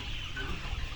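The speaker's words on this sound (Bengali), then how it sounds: "এখানে প্রায় আমাদের 3000 প্লাস মুরগি রয়েছে।" Layer hens at a poultry farm of around 3,000 birds cluck steadily in a dense, continuous chorus over a constant low background hum.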